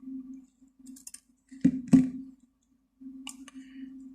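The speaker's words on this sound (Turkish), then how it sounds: "Fazlasını şimdi makasla kesiyorum." Two quick sharp snips of scissors cutting thread close by, with a low steady hum running underneath and a few faint light clicks afterward.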